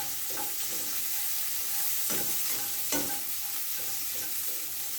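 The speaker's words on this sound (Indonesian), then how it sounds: "coba untuk memasak nasi goreng dulu" Fried corn rice cooking in a pan with a little oil, a steady sizzle with occasional stirring scrapes, close and even, with no talking.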